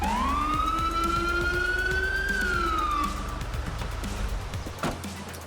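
A police siren in the video game GTA V wails with a steady rising and falling tone over a low engine rumble, then drops in pitch and fades, with a sharp click near the end.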